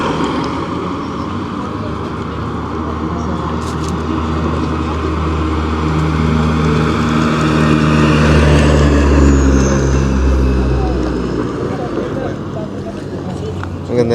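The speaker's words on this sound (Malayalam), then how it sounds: "വണ്ടി വരുന്നുണ്ട്." A rally car at a French Rally Cup event in Morbihan approaches along a country road, its engine rising to a loud roar near the middle and fading away, heard under nearby talking.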